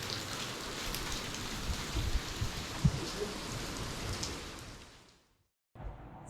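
Rain falls steadily on the way back to a yacht club, a dense hiss with scattered heavier drops, then cuts out abruptly into silence before resuming briefly.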